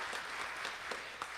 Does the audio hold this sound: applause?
yes